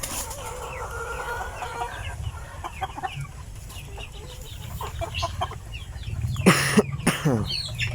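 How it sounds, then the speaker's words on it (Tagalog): Chickens, including Rhode Island Reds, cluck and cough from smoke of burnt rags in short, scattered bursts around a free-range yard, with a louder cluster of harsh hacking sounds near the end. "Inuubo tayo mga kaputak kasi meron akong sinunog kanina ng mga basahan."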